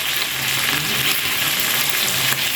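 Chicken liver frying in a pan with a little oil and black pepper, a steady bright sizzle that carries on without a break. Faint scraping of stirring runs underneath, close up, and nobody speaks.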